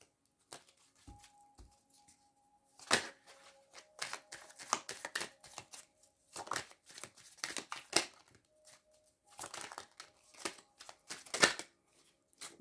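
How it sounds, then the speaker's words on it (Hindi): Tarot-style cards are drawn from a deck and laid down during a reading, giving sparse, soft papery slaps and brief flicks with quiet gaps between them, close to the listener. "बाकी कार्ड्स भी निकाल लेते हैं"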